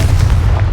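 A short, heavy boom from the Confringo explosive spell in Hogwarts Legacy, a single deep, loud blast lasting under a second.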